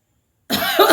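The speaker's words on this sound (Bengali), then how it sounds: "ও কাশি হচ্ছে।" A single sharp, harsh cough bursts close after silence, rasping briefly with a second push at the end.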